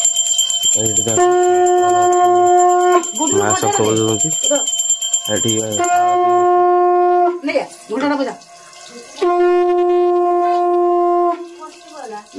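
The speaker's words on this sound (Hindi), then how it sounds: "हाथ के घंटी धर घंटी बजा" A hand bell rings at an evening aarti in an Odisha village home, with loud sustained metallic ringing that pauses and resumes, while people talk over it.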